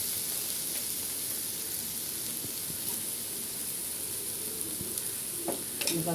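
Spices sautéing in a pan, a soft continuous sizzle with occasional light stirring clicks toward the end, fairly quiet and heard alone.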